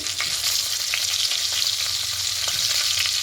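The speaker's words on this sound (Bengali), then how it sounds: "একটু হালকা করে ভেজে নেব।" Whole garam masala spices (cinnamon, cardamom, cloves, cumin, bay leaf and dried chilli) frying in hot oil for a vegetarian aloo paneer, giving a steady close sizzle with light crackles and occasional stirring clicks, no voices.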